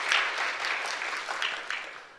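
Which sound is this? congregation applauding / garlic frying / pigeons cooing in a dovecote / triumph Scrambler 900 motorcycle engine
congregation applauding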